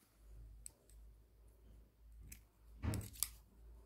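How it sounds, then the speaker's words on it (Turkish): Scissors snipping through cord while a small keychain bag is being made: a soft click early on, then one close, crisp cut near the end, in a quiet room. "Bir zincirimi çektim ve şimdi ipimi keseceğim."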